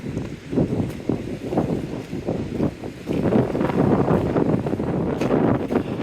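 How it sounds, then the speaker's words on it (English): Gusty wind on Teignmouth seafront on a cold, darkening January evening buffets the microphone in rough, irregular low rumbles that grow stronger and more constant in the second half. "back to the blowy seafront"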